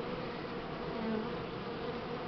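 Buckfast honeybees buzz steadily at an open hive during an early spring inspection, a dense, continuous drone close by with no voices.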